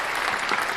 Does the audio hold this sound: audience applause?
yes